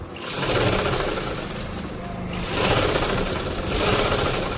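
A sewing machine runs steadily while stitching the waist joint of a pair of trousers, a close continuous motor whir with slight surges in speed throughout.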